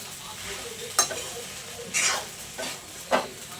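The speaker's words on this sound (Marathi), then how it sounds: "एकदम मंद गॅसवर असं व्यवस्थित शाबू भाजायची" Sago pearls roasting in a pan over low gas, with a faint steady hiss under four distinct scraping stirs spaced about a second apart, close by and with no talk.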